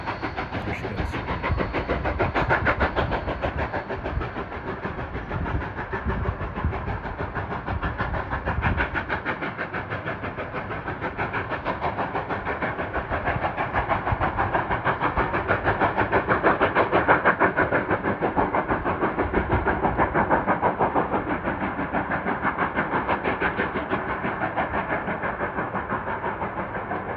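A train runs below a ranch along the Chama River in New Mexico near the Colorado line, its steady rumble and rolling rail noise sustained and fairly loud throughout, with no talking.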